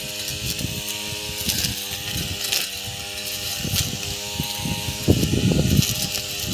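A small engine-driven pigeon pea top cutting machine runs steadily with a buzzing, harmonic drone, its pitch and load surging several times as it cuts.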